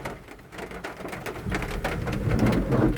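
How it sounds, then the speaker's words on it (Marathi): Rain falls steadily outdoors after a few dry days, a soft continuous patter that grows a little louder toward the end, with no one talking. "बघा आता पावसाने परत हजेरी लावलेली आहे"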